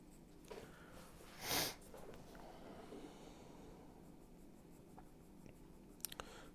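A slightly harder graphite pencil scratches softly across paper while shading fine details, a quiet continuous rasp with a brief breathy sniff early on and a few light taps near the end.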